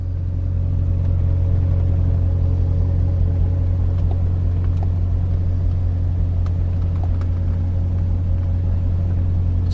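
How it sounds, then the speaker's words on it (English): A 1989 Chrysler TC by Maserati with 13,000 miles idles right after a cold start, a steady, deep engine rumble with a constant low hum and faint ticking, unchanging throughout. "So that was the cold start."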